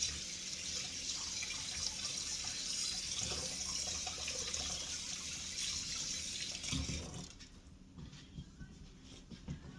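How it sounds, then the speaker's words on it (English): Tap water runs steadily into a kitchen sink while hands are washed under it, a close, constant splashing wash that cuts off near the end, leaving a quiet room. "Wash my hands again."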